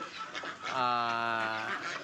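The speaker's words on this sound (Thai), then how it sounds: "ทุกวันเราก็จะปล่อยเป็ดออกมาเล่นแบบนี้เลยนะครับ เป็ดอี้เหลียง นะครับ" White Yi Liang ducks let out to play in a Thai village yard: a single drawn-out nasal quack call rises over faint rustling background, moderately near and without talk.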